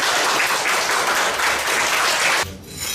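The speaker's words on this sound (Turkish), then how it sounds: "Özcan'ı kocaman bir alkış yapın." Loud, dense applause from an audience honoring a young boy named Özcan, a steady wash of clapping that cuts off sharply near the end, leaving a quieter room tone.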